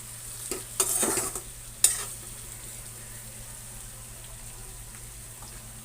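Spoon stirring fried brinjals in a pan: a few scraping clatters early on, then a sharp knock, followed by a quieter, steady sizzle of frying.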